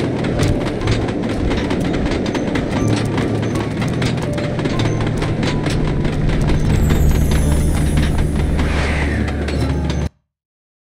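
Train from the Sly Cooper 2 video game rumbles steadily with mechanical clatter and rattling, a loud continuous rolling drone alongside layered game music and effects, then cuts off abruptly near the end.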